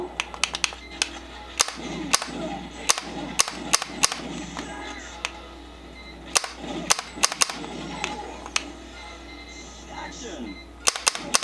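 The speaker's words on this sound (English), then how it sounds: "Two shots." Rapid gunshots from a MAME arcade light gun shooter game, sharp cracks fired singly and in quick pairs at an irregular rhythm, loud and close over a low game hum and background sounds.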